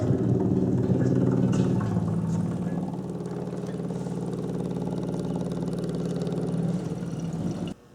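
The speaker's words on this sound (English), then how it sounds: "This is an electric fuel pump off a carbureted car" An electric fuel pump from a carbureted car runs to pump coolant out of a car cooling system, a steady droning hum that holds for several seconds before cutting off abruptly, close and without talk.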